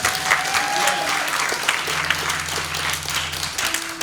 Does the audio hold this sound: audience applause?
yes